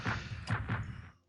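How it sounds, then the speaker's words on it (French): Artillery shells fire in the World War 1 strategy game Strategic Command, three heavy booming thuds in quick succession, close and loud, before the sound drops to quiet. "On met notre deuxième obus dessus."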